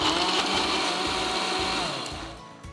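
Mixer grinder whirring as it grinds homemade Thai red curry paste, a loud, continuous high motor whine that holds steady and then winds down near the end.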